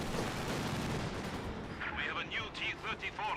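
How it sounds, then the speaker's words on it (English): A Panzer IV tank cannon fires in the WWII strategy game Company of Heroes 2, opening with a booming blast that decays into a rumbling roar while a chattering battle noise fills the rest. "Great shot there from the OKW Panzer IV."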